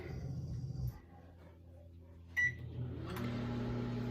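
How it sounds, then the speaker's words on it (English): A microwave oven running to melt ingredients, with a steady low electric hum throughout, a brief clunk partway, then the hum continuing with a louder fan-like whir, close and without speech. "we're going to want to microwave it for about 30 seconds"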